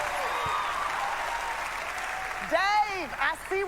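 A crowd claps and cheers in a burst of applause while a voice speaks and calls out over it.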